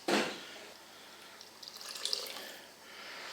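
Water splashes briefly from a tap, then pours and trickles into a gizzard stew cooking in a machine, with small drips and bubbling gurgles close by.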